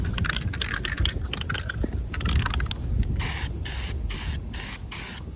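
Paint sprays onto a sailboat during boat work, first in a dense continuous hiss and then in several separate close bursts with brief gaps between them, with no talking.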